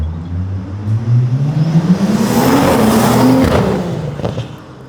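A BMW engine converted to a JDM-style setup revs up loudly, pitch climbing steadily, then cuts off with a few sharp crackling exhaust pops before settling back down.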